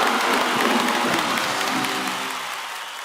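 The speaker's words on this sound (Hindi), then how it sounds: "इन सबके लिए जोरदार तालियां हो जाएं।" A television comedy-show studio audience gives loud, sustained applause that swells and then slowly fades, dense clapping with a few faint cheers mixed in and no talking.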